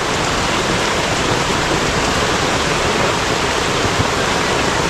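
Heavy, steady rain pouring down in a dense, continuous roar, loud and close, with no letup and no voices.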